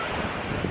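Ocean surf rolls steadily onto a beach in Virginia, a continuous broadband wash of waves mixed with gusting wind buffeting the microphone, with no voices.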